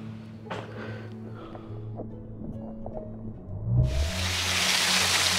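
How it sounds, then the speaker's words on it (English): Artificial waterfall at a resort swimming pool, a steady broad rush of falling water that swells in suddenly partway through after quieter ambience with faint clinks and murmurs. "Artificial waterfall."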